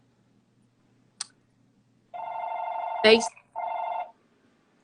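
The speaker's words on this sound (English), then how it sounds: "My mother-in-law phone ringing, so I'm sorry." A telephone rings in two long electronic tones separated by a short gap, and a brief voice and a click cut in between them; the rings are clear and close.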